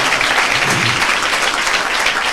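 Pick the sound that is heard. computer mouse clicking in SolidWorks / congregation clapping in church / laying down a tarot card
congregation clapping in church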